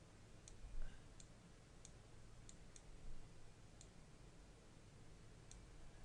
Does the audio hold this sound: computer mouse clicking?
yes